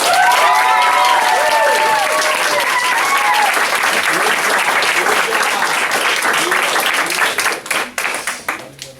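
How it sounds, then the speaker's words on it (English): A graduation audience at a Dayton Quest Center ceremony breaks into loud, dense applause with cheering voices and whoops early on, sustained for several seconds before tapering into scattered individual claps. "We're going to give the CPI a round of applause right now"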